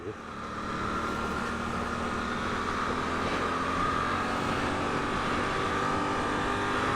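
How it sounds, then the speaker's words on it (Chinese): A Suzuki GSX-8S motorcycle makes a quickshifter gear change while riding at speed, with a steady engine drone and heavy wind rush that stay constant and fairly faint, with no abrupt break. "然后现在是比较高档位的快排的换挡"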